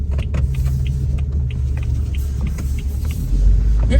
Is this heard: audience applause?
no